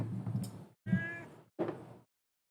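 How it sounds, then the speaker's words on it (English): A cat meows loudly three times in a row, each drawn-out call separated by brief pauses, close by with no talking. "It is a loud meow."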